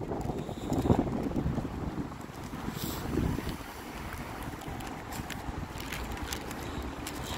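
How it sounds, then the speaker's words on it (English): Wind gusts outdoors buffet the microphone in uneven, rumbling surges, loudest near the start and easing into a steadier low blow, with faint scattered clicks and no talking. "Man, windy outside."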